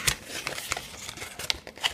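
Paper inserts from the packaging of an Angelbird AV Pro SD card crinkle and rustle up close, with scattered sharp crisp snaps over quiet handling noise.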